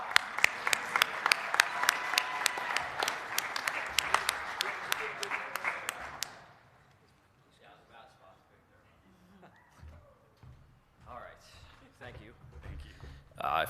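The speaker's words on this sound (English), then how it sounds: "Keep the applause going." An audience applauds at a Basketball Manitoba awards presentation, with steady, dense clapping that stops abruptly, followed by quieter room noise and scattered talk.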